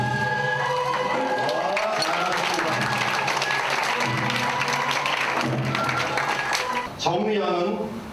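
Wedding guests give sustained applause, dense clapping filling the room for several seconds, with chatter and a tonal hum underneath before the clapping thins toward the end.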